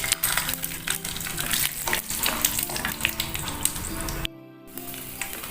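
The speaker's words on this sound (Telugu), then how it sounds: "ఇదిగోండి జీడిపప్పు వేగాయి కదా" Cashews fry in hot oil with mustard seeds and cumin, crackling in a loud, dense sizzle with stirring scrapes, then a brief quieter gap before the frying resumes.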